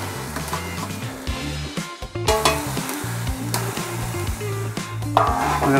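Onions hitting a hot pan and frying, a steady crackling sizzle with a loud burst partway through, overlaid by a repeating low rhythmic tone from a kitchen appliance; no talking.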